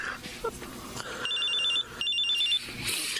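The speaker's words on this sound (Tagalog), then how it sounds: "tumatawag sa cellphone ko" A cellphone rings with an incoming call, sounding two bursts of a trilling electronic tone against soft dramatic background sound.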